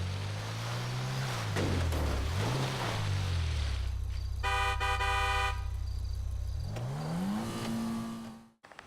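Car doing reverse donuts in GTA 5, engine drone rising and falling as it spins, with a burst of horn-like tones midway, continuous and loud until it cuts off near the end.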